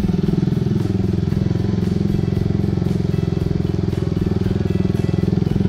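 A Suzuki Satria F150 (GTR150R) motorcycle is ridden at low, steady speed, with a close, rhythmic engine putter and a continuous low exhaust drone that does not change throughout.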